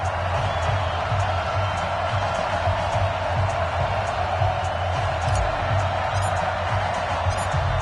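A packed NFL stadium crowd in a video game ahead of the Dallas Cowboys versus Cleveland Browns matchup keeps up a steady, broad roar and cheering that stays fairly even throughout, with faint whoops and a commentator speaking over it.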